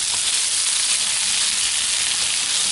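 Dressed bamboo shoot salad sizzling in a hot pan as it is stir-fried, a steady close hiss throughout with no talk.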